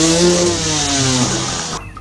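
A toy motocross motorcycle gives off a loud, buzzy electronic engine tone that holds steady for under two seconds and then cuts off abruptly.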